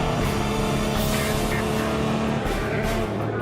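Audi and Peugeot race cars roar around a circuit in a continuous, dense engine wash, with a faint voice underneath.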